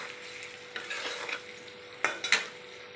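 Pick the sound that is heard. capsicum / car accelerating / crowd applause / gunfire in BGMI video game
capsicum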